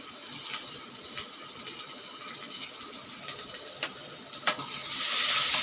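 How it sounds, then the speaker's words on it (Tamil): Chopped small onion and curry leaves fry in a pan for oats upma, a steady bright crackling sizzle with a few sharp pops, rising to a louder hiss near the end. "கொஞ்சம் ஃப்ரை ஆகட்டுங்க"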